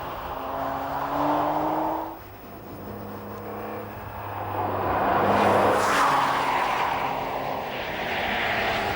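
A BMW Z4 3.0i's engine revs with a raspy, throaty tone, rising and falling through loud passes as the car accelerates and shifts.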